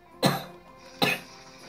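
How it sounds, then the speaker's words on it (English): Two short coughs, about a second apart, sound close and alone over quiet game background noise while playing Kirby's Return to Dreamland. "I keep coughing."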